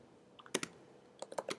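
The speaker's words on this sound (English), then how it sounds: "So let me type it down" Keystrokes on a computer keyboard while writing code, a couple of isolated taps followed by a quick irregular burst of clicks, close and fairly quiet.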